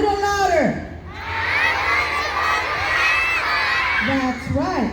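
Schoolchildren at a morning school assembly shout a chant together in a loud, unified crowd burst, framed by an adult speaking before and after.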